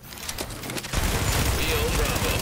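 Gunfire strikes a fortification in the shooter game The Division: dense, rapid bursts of shots crackle steadily, close and loud, swelling into a heavier, fuller barrage midway with no pause.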